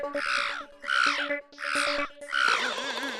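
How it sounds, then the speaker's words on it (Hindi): A crow caws in four harsh, evenly spaced calls, loud and close, each a rough squawk with a brief pause between, against a quiet background. "एक तो ये कौवे को शांति नहीं है, सुबह से काऊ काऊ कर रहा है।"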